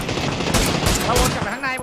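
Rapid bursts of PUBG gunfire crackle loudly and continuously, with dense automatic shots layered over a busy mix of game sounds.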